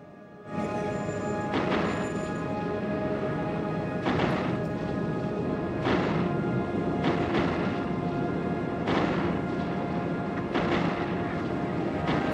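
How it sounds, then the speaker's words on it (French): Spaceship cannons fire in the space game Eve Online, a steady engine rumble underneath with repeated heavy blasts at irregular intervals, loud and without voices. "On prépare les canons."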